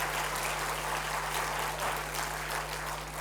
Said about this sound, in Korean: 더 큰 박수로요 병이 낫게 해달라고 우리가 박수하시겠습니다